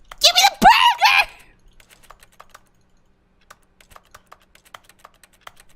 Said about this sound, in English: What keyboard am I typing on right now?